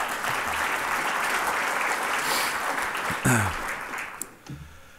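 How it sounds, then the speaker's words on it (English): A conference audience applauds during a 2013 presidential address: broad, even clapping from a large hall. A few sharp knocks sound near the end as the applause fades and a voice begins. "And Todd, just a round of applause for you as well"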